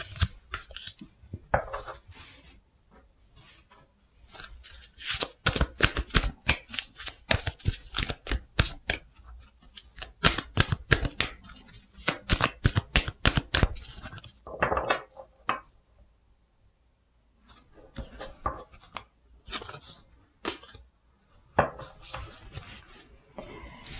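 Tarot cards shuffled by hand during a weekly fortune reading, giving dense runs of crisp, rapid papery clicks and riffles in several close bursts separated by brief pauses.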